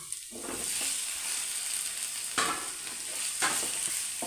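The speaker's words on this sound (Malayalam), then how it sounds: "അതിനകത്തോട്ട് നമുക്ക് ഈ തക്കാളി അങ്ങിടാം" Tomatoes frying in a pan with curry leaves for an egg thoran, a dense steady sizzle with a couple of sharp stirring scrapes, close and even throughout without speech.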